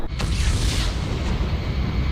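A dubbed anime sleeping gas bomb that turns out to be the wrong one goes off as a loud, rumbling blast, with a sharp onset and a sustained roar that fills the whole moment.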